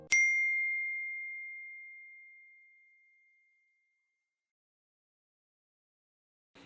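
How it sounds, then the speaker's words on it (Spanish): A single bright phone notification ding rings out and decays slowly over several seconds, then leaves near silence. "Pero era otra notificación estúpida o algún mensaje innecesario"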